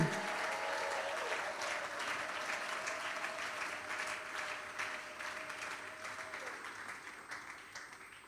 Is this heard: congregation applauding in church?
yes